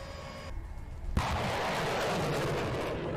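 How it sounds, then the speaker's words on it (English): HIMARS precision missile strikes hit a convoy, a sharp blast followed by a long, loud rumbling roar that stays heavy and continuous, after a quieter stretch of background noise. "Right after that, a precision strike from the Himars."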